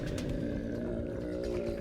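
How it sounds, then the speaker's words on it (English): A big-cat style roar sound effect played over a Discord voice call, a continuous low rumbling growl lasting a couple of seconds, compressed and steady rather than close or natural. "I'll give you a roar."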